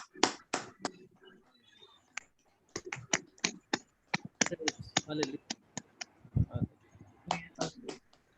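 A church congregation claps to welcome the pastor, sharp scattered hand claps in an uneven rhythm, fairly close and sparse, with brief voices between them.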